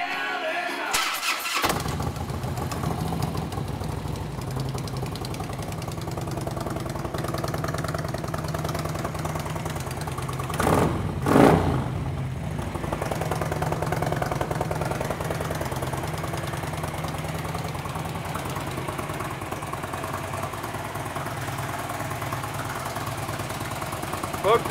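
A fuel-injected 2006 Harley-Davidson Electra Glide Ultra Classic engine with 22,000 miles cranks and catches, then settles into a steady idle with a brief throttle blip partway through, loud and close.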